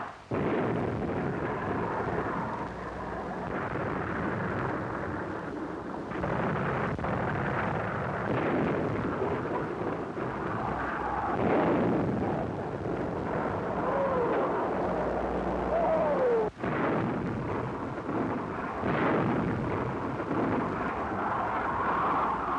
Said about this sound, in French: Les positions ennemies s'écroulèrent une à une sous le feu de nos canons.